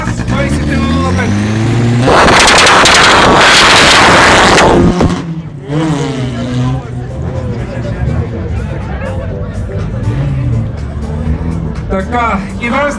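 A VAZ 2105 rally car at the start of a hillclimb rally stage near a mall in Varna, its engine revving hard in a loud burst before settling to a rough idle, with crowd chatter and an announcer around it.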